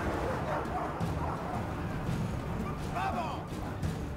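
War dogs bark and yip amid the clamor of a Total War Arena battle, short sharp barks scattered through continuous game noise while someone talks over them.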